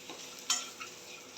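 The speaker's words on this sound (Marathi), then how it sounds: "मक्याचे दाणे मी याच्यात घालते आहे" Corn kernels are stirred and sautéed with vegetables in a pan for corn soup: a soft sizzle with a sharp spatula scrape midway and lighter scrapes after it, close and clear with no talking.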